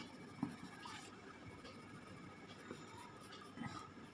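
A pencil moves softly over paper while a self-portrait is sketched, giving faint, continuous scratchy strokes with a few light taps, quiet and close with no voices.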